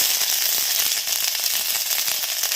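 Steady, dense sizzling of ginger added to hot oil, loud and close, with crackling bursts throughout and no voices.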